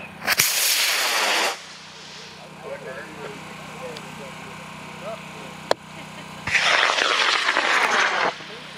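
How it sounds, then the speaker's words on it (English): A G-motor model rocket with helicopter recovery launches from a pad at an outdoor launch event, a loud roaring hiss at the start and again near the end, with a sharp crack between and voices in the background. "It's a G helicopter. Pad 15 in 5, 4, 3, 2, 1, launch."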